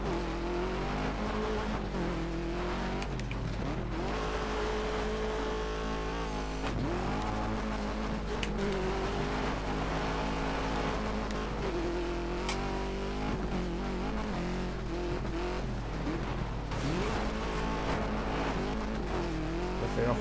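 A rally car in the DiRT 2 racing game revs hard and slides, engine pitch rising and falling steadily with tire squeal under it, while a voice talks intermittently over the game sound.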